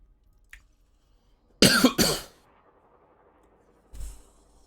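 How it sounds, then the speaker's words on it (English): A person gives a sharp double cough close to the mic, with a short throat-clearing burst a couple of seconds later in an otherwise quiet room. "I don't know why I have a little persistent cough going on today."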